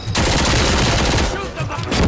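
Dense rapid gunfire in the first-person shooter RoboCop: Rogue City, a loud, continuous volley of overlapping shots filling the whole two seconds with barely a gap.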